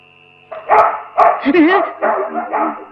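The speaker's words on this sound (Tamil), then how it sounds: "அம்மா, நாய் நம்ம நாய்ங்களா இல்ல போலீஸ் நாய்ங்களா?" Dogs barking in a series of loud, close barks and yelps in bursts over about two seconds, with a steady tone underneath.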